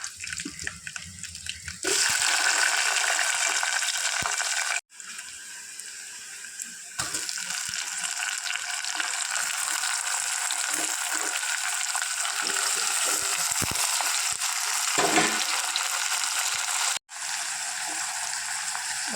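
Eggplant pieces sizzle in a couple of spoons of hot oil for a home-style eggplant and tomato curry, a steady close hiss that runs almost unbroken, with a few brief dips.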